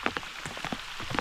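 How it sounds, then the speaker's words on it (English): Heavy thunderstorm rain pours down steadily, with dense close patter of drops striking surfaces, loud and continuous with no voices. "This is too much rain."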